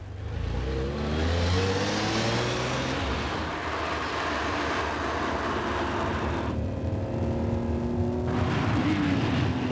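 A Ferrari road car, built from racing technology, is driven hard by a test driver, its engine climbing repeatedly through revs with sharp gear changes, loud and close with no voices.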